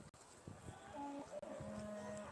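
Cattle low at a Beef Shorthorn judging ring at the Great Yorkshire Show, a couple of drawn-out moos rising over soft background murmur, fairly near and alone without speech.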